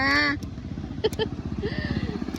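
A motorcycle engine putters at idle with a steady rhythmic chug while voices talk over it.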